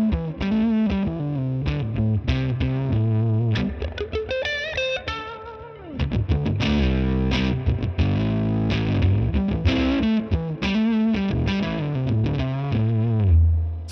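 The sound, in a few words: electric guitar through Mesa/Boogie California Tweed amp simulation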